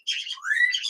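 A pet parrot in a bird room lets out a short burst of shrill chirps and a rising squawk, close and fairly loud, lasting under a second with no talking.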